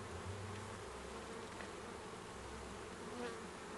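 Honeybees buzz at an open hive during a December colony check, a faint, dense and steady hum of many insects with occasional individual bees droning closer past the microphone.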